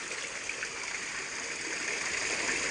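Steady, even rush of water from a small artificial rock waterfall fountain fed by internal pipes at a company fish farm, continuous and fairly close, with no voices.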